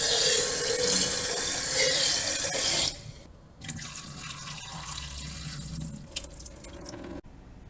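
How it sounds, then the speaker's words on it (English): Tap water runs loudly into a sink while rinsing sprouts, a steady gushing stream that cuts off after about three seconds, followed by quieter dripping and trickling sounds. "we're going to give this a quick rinse"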